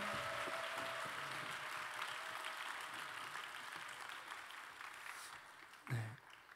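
Audience applause at a church youth-group gathering: a continuous wash of clapping from many people, fairly soft and distant, slowly tapering off, with a brief thump near the end.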